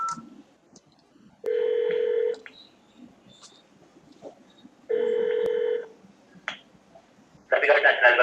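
Two bursts of push-button dual-tone keypad dialing on a telephone during an automated phone menu, each lasting about a second, separated by quiet line hiss with faint clicks, followed by a brief noisy burst at the end.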